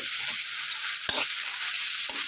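Paneer curry with yogurt and red amaranth flowers sizzles steadily in a frying pan while a spatula stirs it, with a couple of sharp scraping knocks against the pan.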